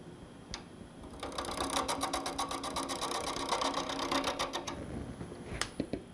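A wood lathe running during production turning, with a steady mechanical whir and rapid rhythmic ticking and rattling that build up, hold for several seconds and then stop, close and moderately loud with no talking.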